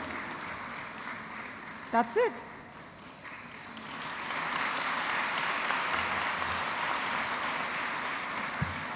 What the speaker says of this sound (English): So a big round of applause to the Shiv Nadar institution,